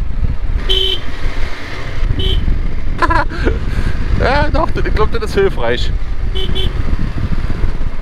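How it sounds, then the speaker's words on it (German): A vehicle horn toots twice, short and sharp, before a curve on an Alpine mountain pass road, over road and engine noise, with people talking and more horn blasts scattered through. "Mal zweimal hupen."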